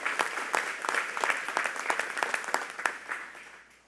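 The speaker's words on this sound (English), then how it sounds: "let's give a round of applause to our legislators who are here" Applause for legislators at a governor's event, with steady clapping from a moderate crowd that rises and falls, then fades out toward the end.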